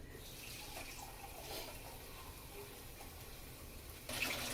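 Tap water runs into a cooking pot already full of Spam for a homemade soup, a faint, steady trickling wash with a brief louder splash near the end, no talking.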